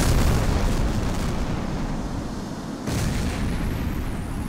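A rebel garrison is blown up in the HAWX air-combat game over Central Africa, with a Eurofighter Typhoon flying the mission. A loud, dense, roaring blast rumbles on steadily for several seconds, with a slight break partway through.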